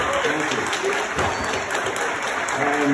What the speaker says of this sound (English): So let's get a round of applause.